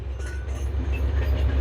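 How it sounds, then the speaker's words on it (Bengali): A passing train in rural Egypt rumbles, low and continuous, close by. No voices are heard. "ট্রেনের সাউন্ড দেখেন"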